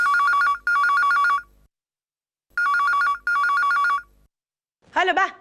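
A telephone rings in two double bursts separated by a pause, loud and close, followed by a short voice.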